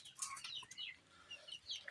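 Chickens cluck softly around a rural home yard, with short scattered calls and chirps at low volume and quiet gaps between them.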